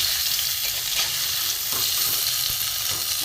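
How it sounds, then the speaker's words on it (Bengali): Two pieces of rohu fish fry in hot oil in a pan with a dense, loud and continuous sizzle, heard close up with no talking. "আমার এপিট ওপিট করে মাছ ভাজা হয়ে গেছে, দুই পিসি মাছ ভাজা হয়ে গেছে সুন্দর।"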